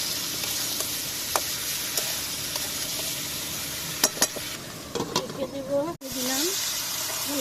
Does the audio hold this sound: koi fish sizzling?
yes